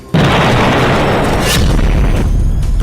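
Explosion destroying a Hezbollah building, a sudden loud boom that cuts in and rolls on as a sustained rumbling blast, with a brief sharper burst midway.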